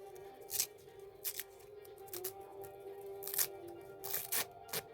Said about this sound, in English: Then I can peel it away from the material.